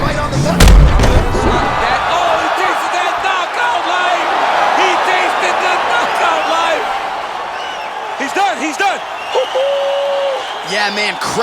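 Arena crowd cheering in the UFC 4 fighting video game after a fight-ending shot: a sustained, roaring wash of fans that swells and holds, with a commentator talking over it.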